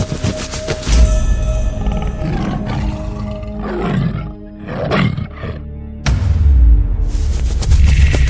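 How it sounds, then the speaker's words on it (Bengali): A white tiger in a cartoon lets out loud, close roars and growls in several bursts, with a short lull in the middle, over a tonal background score. "কিন্তু ডাকছে তো বাঘের মতো।"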